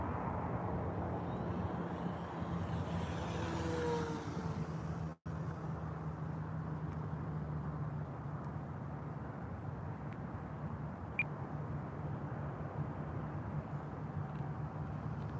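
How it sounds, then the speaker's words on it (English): An E-flite Trojan RC plane makes a full-throttle speed pass, a steady droning engine whine that swells and passes overhead with a brief dropout midway, then carries on as a constant hum. "let's do a full speed pass here. I'm gonna start the throttle up here."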